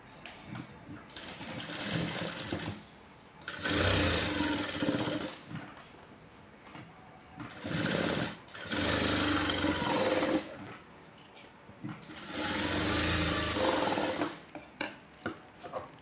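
A sewing machine stitches the joined shoulder seams of a blouse, running in several separate bursts of rapid whirring clatter, each a few seconds long, with quiet pauses between them.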